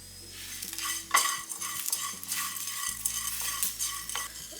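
Cinnamon, cloves and curry leaves are dry-roasted in a pan, giving a close, steady rustling stir with light sizzling and scraping of a spoon against metal, with no talking.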